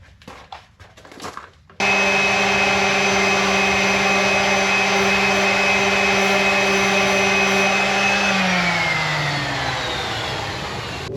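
Power sander with P80 abrasive grinding lacquer off a motorhome wheel outdoors, a loud steady whine with a droning buzz that runs on for about nine seconds after a few scuffing taps, then winds down slightly at the end.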